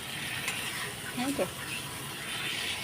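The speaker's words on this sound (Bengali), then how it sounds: "এখন সব কিছুক্ষণ কষিয়ে নিই" Fish curry spice mixture sautéing and being stirred in a pan, a steady sizzle with a few scraping stirs of the spoon, close and moderate in volume.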